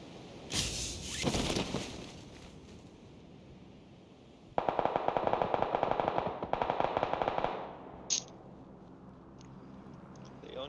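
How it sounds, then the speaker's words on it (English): Bursts of gunfire in the battle royale video game PUBG: an early sharp volley, then a long run of rapid automatic shots at steady rhythm, loud and close, followed by a few isolated cracks. "Oh no, somebody else is shooting."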